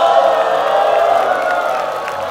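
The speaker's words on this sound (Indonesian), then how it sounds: "Sorakin Berta!" Studio audience on the Indonesian dating show Take Me Out Indonesia cheering and whooping, a loud sustained crowd roar that slowly tapers off.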